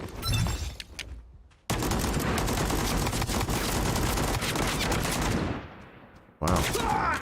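Sustained automatic gunfire from a weapon in Hell Let Loose, a loud, dense burst running several seconds, with shorter shots before and after and no talk.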